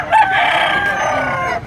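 A rooster crows loudly and close by, one sustained call over a busy background of other fowl at a gamecock market in Padre Garcia, Philippines.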